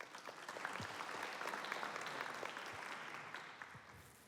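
An audience at a scientific conference on climate and mental health welcomes a speaker with steady applause. The sound is distant and faint, forming a continuous wash that tapers slowly.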